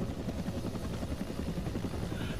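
An AH-1W Cobra attack helicopter in the military game Arma 2 gives a steady, loud rotor thump with rapid rhythmic blade chop over a constant engine drone, heard from inside or close by, without speech.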